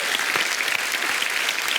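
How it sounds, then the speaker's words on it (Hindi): A short burst of lively applause from a crowd, many hands clapping at once, fairly close and steady throughout. "तालियां फॉर मिजान"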